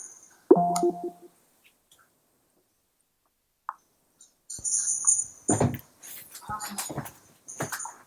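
A pet dog at home makes a few short sounds, including a brief whimper and a clear bark-like yelp near the start, amid quiet pauses and soft handling noises.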